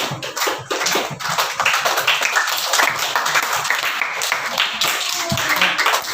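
A classroom of students claps hands together, a dense run of sharp overlapping slaps lasting several seconds with a faint voice now and then.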